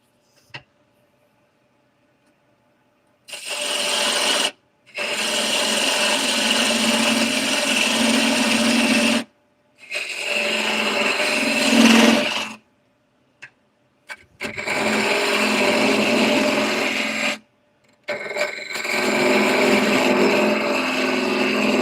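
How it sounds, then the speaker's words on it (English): Wood spinning on a lathe and shaved down with a square carbide tool, a loud, continuous rough scraping hiss in several long passes separated by brief pauses of near silence. "Take my square carbide. I'm going to shave this down a little bit"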